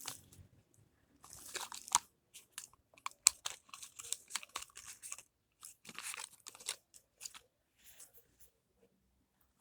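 Foil wrapping on a Topi surprise chocolate egg is peeled and crinkled up close, in quiet bursts of crisp rustling and crackles separated by short pauses.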